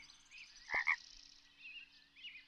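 A cartoon frog's croak from the video game Super Auto Pets, a short bright double croak heard alone over a faint, steady game background.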